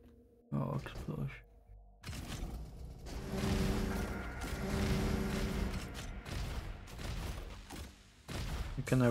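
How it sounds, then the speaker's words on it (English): Explosions and rapid weapon fire in the robot shooter game Roboquest, a burst of sharp booms at the start followed by dense, sustained blasting and mechanical clatter, with a voice talking in places. "Oh, explosion."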